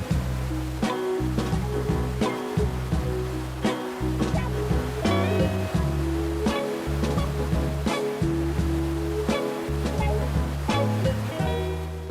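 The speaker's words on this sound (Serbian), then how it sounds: "U nekoliko kaskada voda se sliva na strmoj padini sa visine od oko 20 metara" Water rushes down a waterfall with a constant roar, mixed with steady background music.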